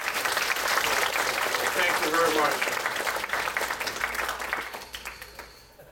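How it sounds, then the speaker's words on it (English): An audience applauds steadily at an evening lecture, broad dense clapping that fills the room from the start and slowly thins toward the end, with someone briefly speaking thanks over it. "give him that applause you gave him earlier."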